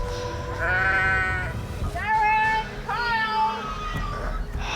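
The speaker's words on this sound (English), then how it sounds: "The wily fugitive sheep has spent 5 years on the run." A runaway sheep on a farm that fled bushfires gives several loud, wavering bleats in a row, close by, with short pauses between calls.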